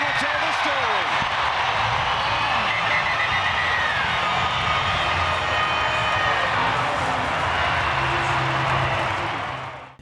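A stadium crowd at an NRLW women's rugby league match cheers and roars after a straight goal kick, a loud sustained swell of voices and clapping that fades away at the end.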